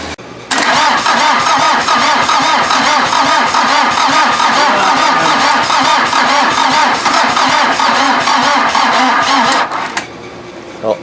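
A VW diesel engine fitted in an offroad Mazda cranks and fires, then runs loud and rough with a rapid clattering pulse for about nine seconds before cutting out abruptly.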